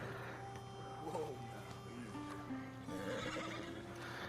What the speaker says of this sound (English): Good horse. I like this horse.